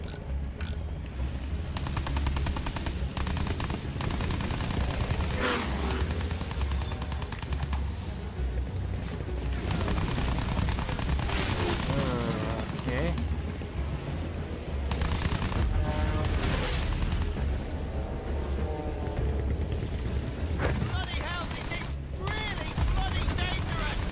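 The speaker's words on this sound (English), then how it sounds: "We're being shot at." Gunfire in the World War I shooter Battlefield 1 during a flight: dense bursts of machine-gun fire and booms over engine drone, with voices talking throughout.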